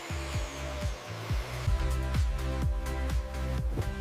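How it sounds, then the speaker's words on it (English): A vacuum cleaner hums steadily while sucking up dirt and grime from furniture in a filthy abandoned apartment, with a rhythmic series of thumps and clicks as the nozzle bumps along the surface. "This vacuum is my best friend right now, sucking up all the dirt and grime."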